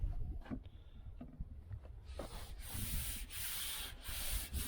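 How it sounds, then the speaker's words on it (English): Sanding of Bondo body filler with 80-grit sandpaper during dent repair on a 1968 Chevelle Nomad body. Quiet at first, then steady, continuous rasping strokes that grow louder and fuller, with no talking. "I'm going to smooth, and plus with the 80 grit, you can feel the dents better."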